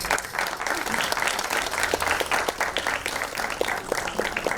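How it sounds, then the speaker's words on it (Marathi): Crowd applause greets a guest walking onto the stage at a Marathi movie trailer launch, a sustained, fairly distant patter of many hands with individual claps popping out, no talking over it. "टाळ्या जोरदार झाल्या पाहिजेत त्यांच्या स्टेजवर येईपर्यंत तरी"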